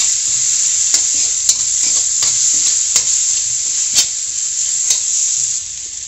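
Onion and capsicum sizzle steadily in a pan over a medium flame, a loud continuous hiss broken by occasional clinks and stirring scrapes, with no talking.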